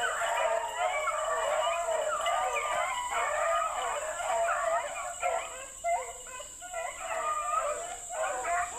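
A pack of beagles bays and howls in layered, overlapping cries while chasing swamp rabbits, heard from a moderate distance over a steady high whine of insects in the background.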